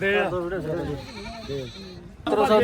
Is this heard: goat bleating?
yes